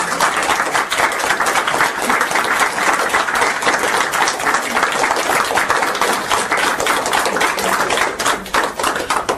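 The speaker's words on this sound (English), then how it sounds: "We don't always stay for the clapping" Dense, sustained audience clapping, loud and close, a continuous wash of many hands with a steady texture and no talk over it.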